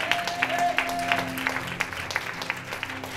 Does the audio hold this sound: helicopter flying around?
no